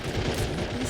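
An MG42 machine gun in a strategy video game fires a rapid, dense rattle of shots over a full second, loud and continuous with a busy battle backdrop.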